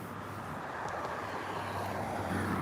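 A car passing on a city street makes a steady, low engine and road rumble at moderate distance, growing slightly louder toward the end, with no voices.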